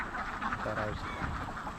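Ducks on a long-running duck farm in Karuvatta quack in a brief burst, mixed in with someone talking close by.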